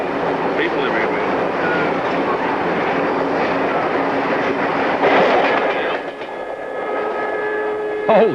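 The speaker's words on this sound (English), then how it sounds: "Hold your hat, that was the Indian Pacific train." The Indian Pacific passenger train rushes past close by with a steady roaring rumble and rhythmic clatter of wheels, briefly swelling louder before settling.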